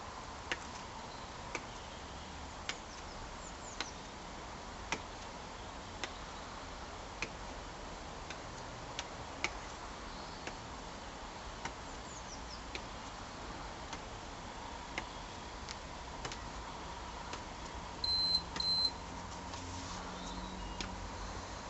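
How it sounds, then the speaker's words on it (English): An interval workout timer ticks at a steady, regular pace through a quiet room at a home fat-blasting bootcamp session, with a brief pair of beeps near the end and no talking. "I'm going to set my timer."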